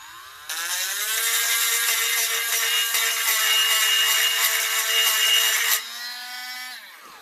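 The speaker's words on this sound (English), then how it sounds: "I got my little Dremel, and I did it on a little bit of an angle." A small Dremel rotary tool grinds an edge on a part of a Ruger Mark I .177 air pistol, a steady high-pitched whine with grinding hiss that runs for about five seconds, then drops in pitch as the motor spins down.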